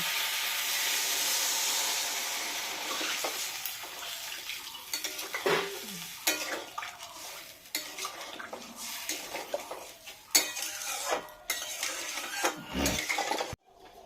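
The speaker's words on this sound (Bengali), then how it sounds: "মশলাটা ভাজা হয়ে গেল, এখন আমি একটু জল দিয়ে দিই।" Water poured onto fried spice paste in a cooking pot for a potato curry with pointed gourd, a burst of hiss and sizzle followed by clattering pot, lid and utensil knocks, close and fairly loud with no voices.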